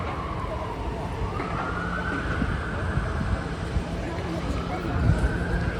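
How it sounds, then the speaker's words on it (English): An emergency siren wails along a London street near King's Cross, rising and falling steadily at mid distance over a constant rumble of traffic and city noise. "you come out to sirens and all sorts of stuff"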